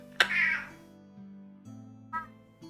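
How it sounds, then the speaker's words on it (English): A pet cat meows in the background, one clear meow followed by a couple of fainter, shorter calls over a low steady hum in an indoor room. "That was actually the cat."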